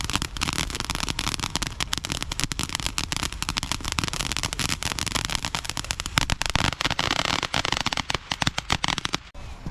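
New Year consumer fireworks crackle and pop in a dense, relentless barrage of rapid bangs, loud and close, ending abruptly.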